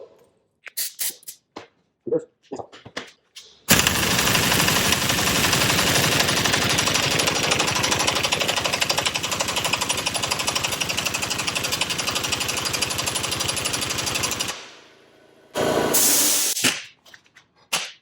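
Air compressor running steadily for about eleven seconds, a loud continuous motor and pump drone filling the tank, with a few clanks and short bursts of tool noise before it starts and after it cuts off.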